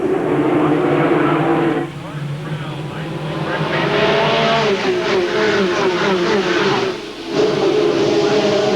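Race cars roar around an oval track at an ASA AC-Delco 300 event at LaCrosse Fair in 1998, a loud sustained engine drone with rising and falling pitches as cars pass, under a commentator's talk.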